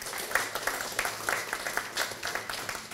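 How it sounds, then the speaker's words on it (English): Applause at a training graduation ceremony in Fiji for women completing an employability program in agriculture, rugby and business, steady moderate clapping from an audience, somewhat distant. "Let's give a round of applause to these women"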